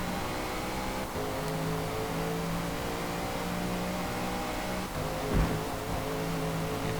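A race car in Forza Motorsport holds a steady high-speed engine drone at constant volume, with a brief whoosh or gear-change blip near the end and no talk.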